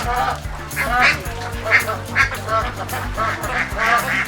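Ducks on a fish farm stocked with pangas and tilapia quack repeatedly in an irregular rhythm, sounding fairly close, with a voice talking among the calls.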